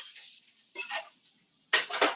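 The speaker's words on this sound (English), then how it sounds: "Hear that sizzle?" Vegetable stems dropped into hot olive oil in a pan, two short bursts of crackling sizzle separated by quiet, close and fairly soft.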